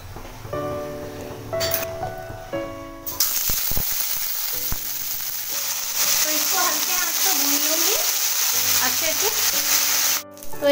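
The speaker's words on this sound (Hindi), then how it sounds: "पानी गर्म हो चुका है तो इसमें मैं थोड़ी सी ऑयल डाल के और इसको अच्छे से भून लूंगी हल्के आंच पे" Dried cauliflower frying in a little oil over low heat, a steady close sizzle and crackle that starts abruptly and keeps going with light stirring, while a background tone and occasional speech-like sounds sit underneath.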